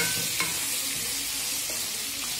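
Vegetables frying steadily in a pan, a continuous close sizzle with faint scraping stirs, no voices.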